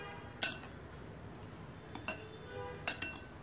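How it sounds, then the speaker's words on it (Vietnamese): Green mango and pig ear salad being tossed in a bowl, heard as a few quiet, scattered utensil clinks against the dish over a faint, hushed background. "Đấy, các bạn trộn đều lên."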